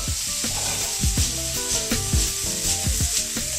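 Large shrimp sauté in a hot pan, giving a close, steady sizzle with repeated scraping and stirring strokes of a utensil against the pan, and no talk.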